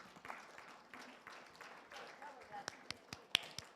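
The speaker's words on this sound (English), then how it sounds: "You got a round of applause, though." Applause from attendees of an online club meeting, light scattered claps and snaps that thin into a few isolated claps, faint and slightly distorted over a call connection, with a voice speaking beneath them.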